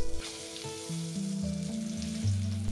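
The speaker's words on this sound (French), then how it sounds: "Saisir la viande 2 minutes de chaque côté." Beef searing in a hot pan, a loud, steady close-up sizzle that holds throughout, with faint background music beneath it.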